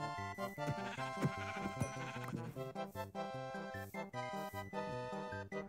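Sheep bleat in Minecraft with a realistic resource pack, steady harmonic calls repeating throughout at moderate loudness without any talking.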